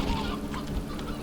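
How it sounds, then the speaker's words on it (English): Chickens in the video game Slime Rancher 2 let out a brief burst of honking, goose-like clucks at moderate volume, lasting about a second. "that's a lot of chickens"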